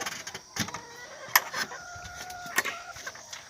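Local hens on a small poultry farm, several short clucks and squawks spread irregularly over a quiet background at moderate distance.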